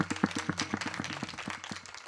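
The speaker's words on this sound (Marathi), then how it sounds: "यांच्यावर एकदा जोरदार टाळ्या झाल्या पाहिजे महाराज" An audience at a Marathi kirtan claps in a quick, even rhythm, the sharp claps close and moderately loud for about two seconds.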